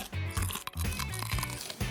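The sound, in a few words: crunching insect ice cream with crickets and mealworms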